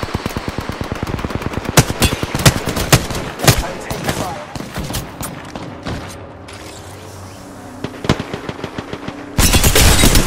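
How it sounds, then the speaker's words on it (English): Rapid bursts of gunfire in the video game Apex Legends, loud, sharp shots in quick strings with shorter single cracks and mechanical clicks between, ending in a dense burst. "I'm taking fire."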